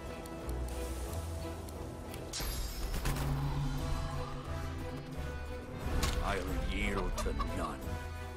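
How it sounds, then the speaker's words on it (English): A character transformed into a chicken clucks in Divinity Original Sin 2, short fowl clucks mixed with game music and someone talking over them. "I think we're gonna turn guild into chicken."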